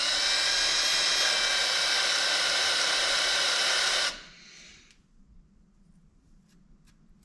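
Power drill boring out a bolt in a Mitsubishi Evo 8 engine, a loud steady whine for about four seconds that cuts off, followed by faint clicks and handling noises.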